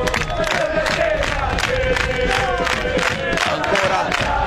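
Around 2000 Canicattì football supporters chant together in the stands during the Canicattì–Raffadali match, a dense, steady roar of sung voices with a rhythmic pulse that holds loud and unbroken throughout.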